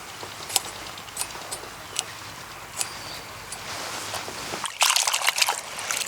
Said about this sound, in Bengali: এবার জল পাল্টিয়ে পাল্টিয়ে 4 থেকে 5 বার ধুয়ে নেব।